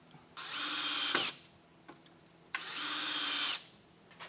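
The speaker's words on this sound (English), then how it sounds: "that marks where I'm going to pre-drill in here so it doesn't split" A power drill pre-drills holes into wood while building a garage workbench, two close, loud whirring bursts of about a second each with a short pause and small knocks between them.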